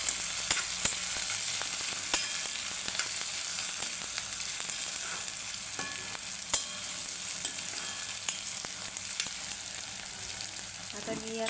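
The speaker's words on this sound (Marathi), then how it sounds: "आता मी टोमॅटो टाकून घेणार आहे. परत मिक्स करणार आहे." Tomatoes tipped onto browned onions in a hot pan while cooking cowpea usal, a steady close sizzle with scattered sharp scrapes and clicks of a spoon stirring throughout.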